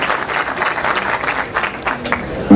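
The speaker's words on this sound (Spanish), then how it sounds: "Un aplauso fuerte para Óscar." Audience applause at a Vuelta a Cundinamarca cycling team presentation, a dense wash of many hands clapping continuously, loud and fairly near, with no speech over it.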